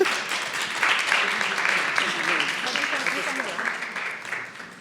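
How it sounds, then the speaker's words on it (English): Audience applause at an urban design panel session in Chicago, a steady, full round of clapping from a seated crowd, with faint voices mixed underneath. "A big round of applause for everyone."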